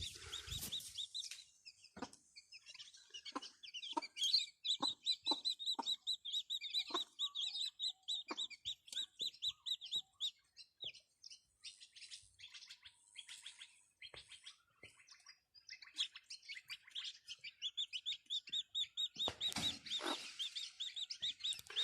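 Chickens cluck in short bursts while chicks chirp rapidly and continuously, close by, with busy overlapping calls and no talking.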